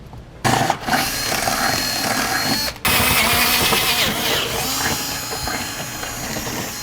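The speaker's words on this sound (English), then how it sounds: "now we'll enlarge our holes from the outside edge with a 5/16 drill bit" A steady, loud mechanical whir of a power drill with a 5/16 bit enlarging holes in metal while fitting side steps to a 2001 Dodge Ram pickup, running almost continuously with a brief pause partway through.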